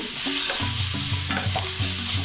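Vegetables frying in a pan for vegetable curd rice, with steady close sizzling and scraping stir strokes repeating throughout, no voices.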